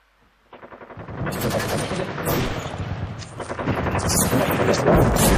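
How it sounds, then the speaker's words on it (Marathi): A gunfire sound effect accompanies a narrated freedom-struggle account of shots fired at an official, a rapid loud burst of repeated shots swelling into dense continuous firing with booms, no speech over it. "त्या क्षणी बंदुकीतून गोळीबार त्यांच्यावर झाला."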